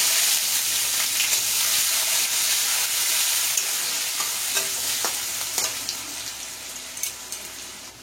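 Green chilies and onion sizzle and fry in hot mustard oil as an Indian fish curry is prepared, making a steady crackling hiss with occasional stirring clicks, gradually fading a little, with no talk.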